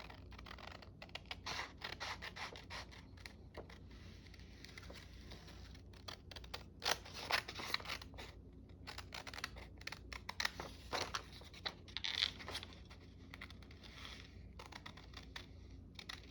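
Scissors cutting paper for a scrappy gift bag journal, close and quiet, a run of crisp snipping and rustling bursts in an irregular rhythm, with brief pauses between cuts.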